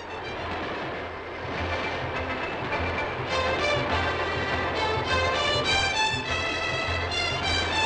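A 1956 SNCF Le Mistral express train cruising at about 140 km/h on rails, giving a steady loud rolling rumble with rhythmic metallic tones and a faint clatter throughout, no talk.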